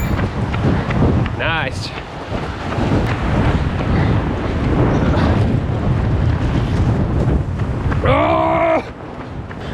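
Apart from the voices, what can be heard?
strong wind blowing on GoPro while running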